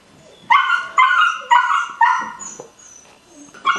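Young puppies yip and bark in a series of high, close barks, about four in quick succession, followed by softer whimpers and another bark, with no talking.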